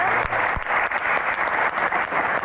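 An audience at a Q&A event on hajj quotas applauds for visiting students from Jakarta, a dense, steady wash of clapping at strong level, with a couple of low thumps near the start.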